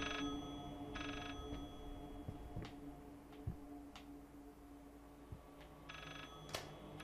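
In the horror video game Layers of Fear, a telephone rings in brief repeated bursts, fairly faint and somewhat distant, over a dark droning ambience with scattered thuds and clicks.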